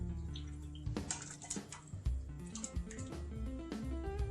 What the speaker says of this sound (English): spoon up some of this broth that we've been making